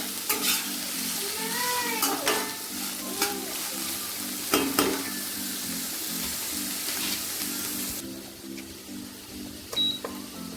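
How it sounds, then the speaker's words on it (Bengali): Vegetables sizzle steadily in a hot pan, with repeated scraping stirs over continuous frying noise and faint tonal sounds in the background. "সবজি ভাজতে বসিয়ে দিয়েছি।"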